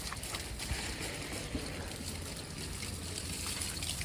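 Soft, steady trickle of running water, continuous and faint, like a hose or stream flowing with a low background rumble, while watering okra, cluster bean, brinjal and tomato plants in a vegetable garden.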